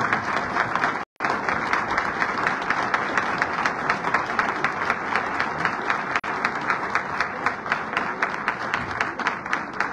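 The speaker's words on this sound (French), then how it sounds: "Je vous demande de bien vouloir applaudir, si vous voulez, le docteur Calamant et le docteur Belabed" Hospital New Year ceremony audience applauding two doctors, sustained dense clapping from a large crowd with a brief cut near the start, steady and loud.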